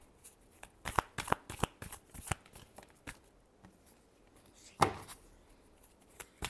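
Tarot cards are shuffled by hand in a quick series of crisp riffles and soft slaps, close and fairly quiet, with one sharper burst near the end and pauses between.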